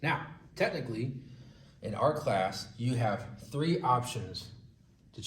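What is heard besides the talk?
No everyday noise stands out behind the speech.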